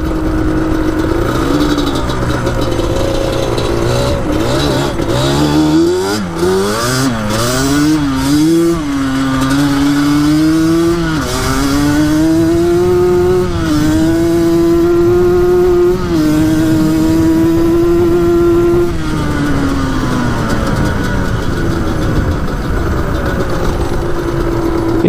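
A Yamaha Banshee two-stroke engine revs hard and climbs through the gears, its pitch rising and dropping at each shift in a loud, sustained run lasting the whole stretch.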